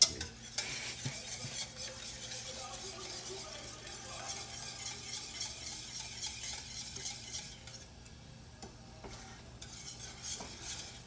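A spoon stirs and scrapes the bottom of a pot of bechamel sauce for lasagna, with soft repeated scraping strokes and a light sizzle, close by and without talk.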